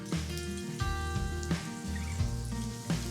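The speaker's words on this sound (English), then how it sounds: "I'm gonna go ahead and start dropping a few pieces of our rabbit in to fry" Pieces of rabbit dropped into oil heated to 300 degrees, frying with a steady close sizzle, crackle and bubbling, and a few soft thumps as pieces go in.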